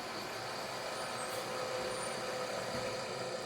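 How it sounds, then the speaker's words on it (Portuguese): A bus rumbles steadily along the street below, a broad, continuous engine roar and road noise heard from above, with no break across the stretch. "tá passando um ônibus aqui embaixo"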